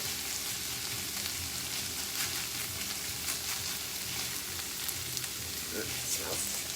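Tempeh sausage crumbles sizzle steadily in a pan, with a broadband frying hiss throughout and occasional scrapes and clicks from stirring to keep it from sticking or burning.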